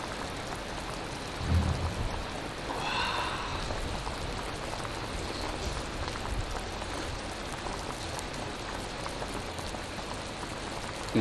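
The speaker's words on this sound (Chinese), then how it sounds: "外面下着雨。" Typhoon rain falls outside, a steady, even hiss of rain heard from indoors, with a dull thump early on and no voices.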